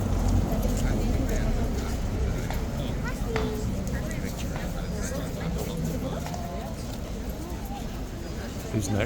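Horse hooves clip-clop at Horse Guards amid a noisy crowd, the hoof beats faint and irregular beneath steady babble and nearby talking.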